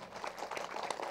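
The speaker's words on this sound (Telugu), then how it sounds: "గట్టిగా చప్పట్లు కొడదాం ఆ మాస్టర్కి" A seated audience at a Telugu meditation gathering claps for a master, a brief burst of scattered hand claps at moderate level, fairly even and unbroken, with no voices over it.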